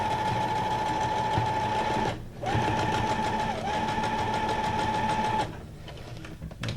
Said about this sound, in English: I'm actually doing some reverse and forward stitching on the tab.